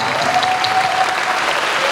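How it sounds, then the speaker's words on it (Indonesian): An audience at a youth jamboree applauds steadily, a dense wash of clapping that stays loud and even from start to finish, with no break in it. "Boleh kita berikan tepuk tangan."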